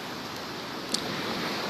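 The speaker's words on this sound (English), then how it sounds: "The sound of the waves is really so soothing to the mind" Ocean waves wash onto the shore in a steady, even roar of surf with no distinct breaks, filling the short stretch without any voices.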